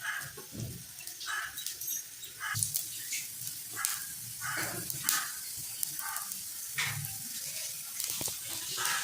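Green gram dosa frying in ghee on a hot pan, giving a steady close sizzle and hiss with scattered crackles and pops throughout, with no talking.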